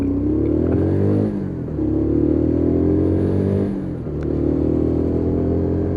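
A Lexmoto Viper motorcycle engine downshifts through the gears, its loud, close exhaust note dropping and rising in stepped sweeps as revs blip between changes over a steady rumble.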